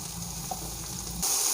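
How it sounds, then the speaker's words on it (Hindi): Five or six onions in a cup of hot oil in a pot, a close, steady frying sizzle that suddenly swells brighter and louder near the end. "सबसे पहले 1 प्याली मैंने ऑयल लिया है, और साथ में हम इसके अंदर प्याज डाल देंगे जो हमने 5-6 लिए थे।"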